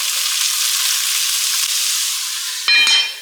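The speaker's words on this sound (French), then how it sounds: "Dans ma cocotte sur feu moyen fort, je viens mettre un fond d'huile de cuisson. J'ajoute mes oignons hachés." Chopped onions sizzle steadily in cooking oil in a pot over medium-high heat, a loud continuous frying hiss with a brief burst of stirring near the end; no voices.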